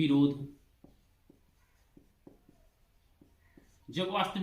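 Writing on a board during a Hindi grammar lesson: a run of short, faint, evenly spaced taps and strokes between stretches of a man's speech.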